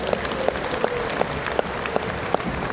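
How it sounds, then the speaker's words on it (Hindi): Audience at a motivational seminar applauding themselves with both hands raised, a steady crowd patter punctuated by regularly spaced sharper claps. "दोनों हाथ ऊपर करके एक बार अपने आप के लिए ताली भी बजा दीजिए"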